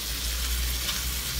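Minced pork frying in a pan with garlic and onions already browned, a continuous close hiss and sizzle of hot oil, steady and alone.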